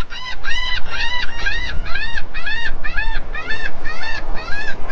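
A flock of birds honking loudly and close together around a freshly caught catfish, rapid overlapping calls repeating steadily for several seconds over wind and background noise.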